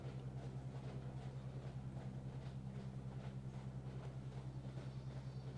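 Train rolling steadily along the rails on a slow descent, a low constant rumble with a strong droning hum and faint rhythmic clatter throughout, moderately loud and unbroken, with no voices.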